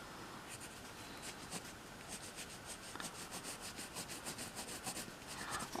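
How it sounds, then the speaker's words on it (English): Pencil rubs and scratches across paper in quick repeated shading strokes while a T-Rex is drawn, faint and close with no voices. "I'm just gonna shade around here."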